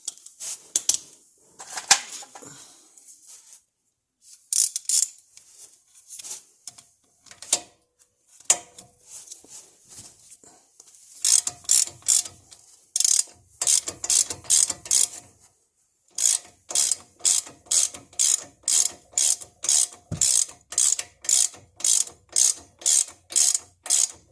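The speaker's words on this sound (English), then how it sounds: "Now you want to have an 18 millimeter to get your lower ball joint loose." An 18 mm ratchet wrench clicks rapidly in bursts while loosening the lower ball joint on a Silverado with Rough Country control arms, with close, sharp metallic ratcheting and short pauses between strokes.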